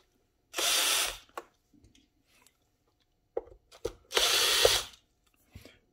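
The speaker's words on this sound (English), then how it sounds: "Let's take my hand drill. Let's undo the screws on this." A hand drill backs out screws on a Technics turntable, two loud whirring bursts of about half a second each with small clicks and handling taps between them, close up and without speech.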